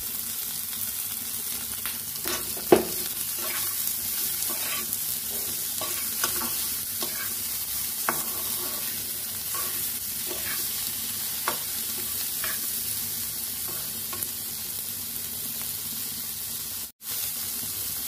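Onion masala with salt and turmeric frying in a pan, a continuous close sizzle with repeated scraping stirs and light clinks of the spoon.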